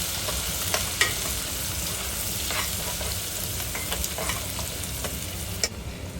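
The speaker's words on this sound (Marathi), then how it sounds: "आता हे सगळं झाल्यावर आपण कांदा फोडणीला घालूया।" Finely chopped onion sizzles in hot tempering oil with sesame seeds, a steady close-up frying hiss broken by occasional stirring scrapes and small crackles.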